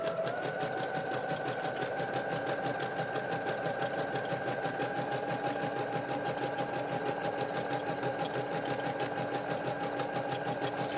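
A sewing machine stitches lightweight fabric for a flared skirt, running at a steady fast rhythmic clatter without pause, close and moderately quiet.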